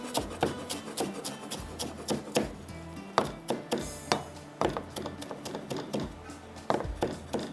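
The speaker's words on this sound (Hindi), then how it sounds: "तो ये हरा धनिया हल्का सा चॉप करते हैं" Fresh coriander leaves chopped on a board, a quick run of crisp knife thuds at an even rhythm, close and clear with no talking.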